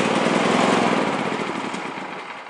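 A petrol trade generator with electric key start runs close and loud, a steady buzzing engine drone that eases slightly in volume toward the end.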